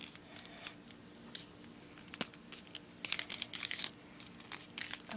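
Paper crinkling and being creased while folding a paper airplane, soft irregular rustles with a few sharper crunches, close and quiet.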